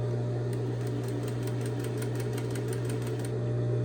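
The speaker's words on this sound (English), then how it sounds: "Now I can proceed to sew." A sewing machine runs steadily along a straight seam a half inch from the fabric edge, its needle producing a rapid, even mechanical rattle over a constant motor hum, close and alone.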